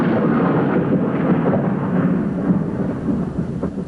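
Thunder from a lightning strike rolls out in one loud, deep rumble that fills the whole moment on its own, with no voices over it.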